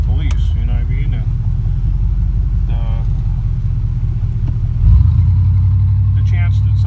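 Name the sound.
truck driving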